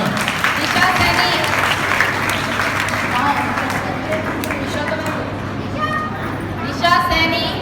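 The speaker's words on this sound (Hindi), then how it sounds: "प्लीज ताली बजा के बच्चों का हौसला बढ़ाएं।" Audience applause for children at a cultural performance and prize announcement, a steady wash of clapping heard under a speaker's amplified voice and children's chatter, swelling briefly toward the end.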